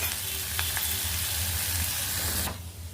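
A chickpea and flat bean fry with chili powder sizzles steadily in a pan while being stirred, with a few scraping knocks before the frying noise suddenly drops away near the end.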